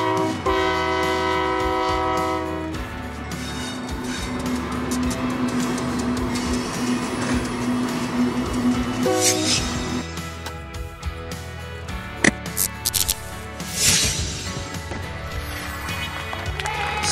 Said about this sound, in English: Oil trains are large capacity vehicles used to transport oil or liquefied gases all over